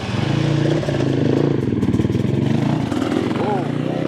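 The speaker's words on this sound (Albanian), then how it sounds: "Motorët po ikin, bëjnë cirkuitin" Motorcycles ride around a racing circuit in Tirana, engines droning loud and close with a steady throbbing pulse, while someone talks over the noise.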